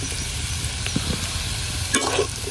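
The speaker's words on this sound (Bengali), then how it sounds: "টমেটোটা দিয়া একটু লড়াচড়া করে নিলাম" Chopped tomatoes fry and get stirred in a pan, a soft sizzle with a few brief scraping stirs over a short moment.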